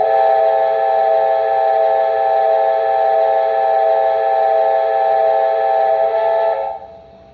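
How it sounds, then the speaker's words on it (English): A loud, steady steam whistle from a model ATSF 4-8-4 Northern locomotive blows for several seconds, a bright multi-tone chord that cuts off cleanly at the end, close and alone. "So if you do a short whistle, you get a nice little short whistle."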